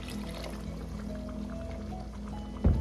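Steady stream of water poured into a thick pork menudo stew with hotdogs in a cooking pot, a soft continuous trickle that ends with a brief louder splash.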